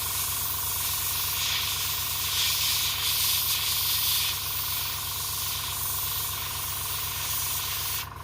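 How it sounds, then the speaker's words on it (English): Airbrush spraying paint onto a foam latex prosthetic, giving a continuous loud steady hiss over a low mechanical hum that runs unbroken before cutting off at the end. "I like to use airbrush"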